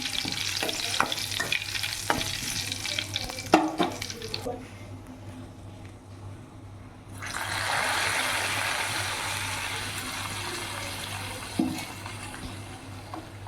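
A fried tempering with a sprig of curry leaves is poured into simmering chicken rasam, and a broad hissing sizzle rises and holds steady after a stretch of clinks and quieter bubbling.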